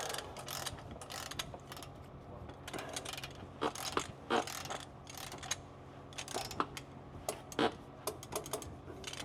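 A wrench ratchets in quick bursts of clicks while tightening Ford axle bolts during a steering shock setup, the clicking runs near and fairly quiet, stopping and starting without speech.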